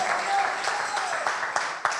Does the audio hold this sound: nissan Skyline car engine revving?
no